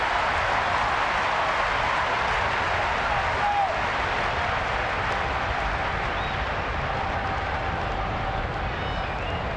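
Applause and crowd noise fill a baseball stadium at a night game between the Chicago White Sox and Minnesota Twins in Minneapolis, as a dense, steady wash, with a commentator's voice at times.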